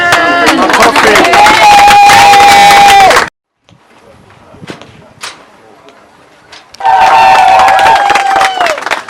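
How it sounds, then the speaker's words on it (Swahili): A church congregation at a new pastorate's opening ceremony bursting into loud applause and cheering with high ululation, which stops abruptly, gives way to a quiet pause with scattered sounds, then returns at full strength. "Makofi."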